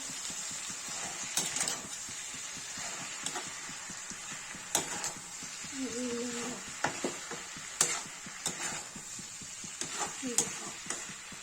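Capsicum and potato stir-frying with turmeric and red chilli in a pan, a steady low sizzle with scattered scraping stirs and clinks throughout, a voice speaking over it at times.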